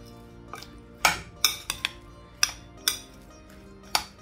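A spoon mixes mango pickle in a bowl, giving a handful of sharp metallic clinks and scrapes spaced irregularly over a quiet background, with no talking.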